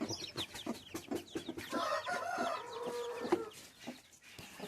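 A hen with eight newly hatched chicks clucks in low repeated calls, mixed with rapid high cheeping from the chicks, close and fairly soft.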